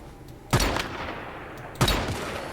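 Two separate gunshots fired in the video game Once Human, each a sharp loud crack with a short decaying tail, about a second and a quarter apart over a quiet background.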